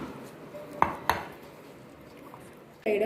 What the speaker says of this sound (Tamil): இப்படி மெதுவாக ஜென்டிலாக கல கலக்கணும்